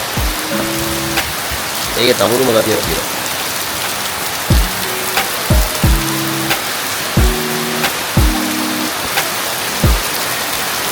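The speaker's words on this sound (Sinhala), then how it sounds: "වහින රුමන්දාව දැකලා තියෙනවද ඔයාලා?" Steady rain falls at Umandawa, a continuous hiss of drops across the whole stretch, with people talking over it and short tonal sounds breaking through now and then.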